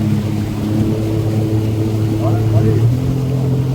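A jet ski engine drones close by on the water and its tone climbs as the rider speeds up, loud and motorboat-like, with people talking over it.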